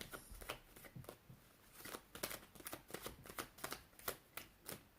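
Playing cards are shuffled during an oracle card reading, producing faint, rapid papery flicks and soft snaps in an irregular flurry, with no voices.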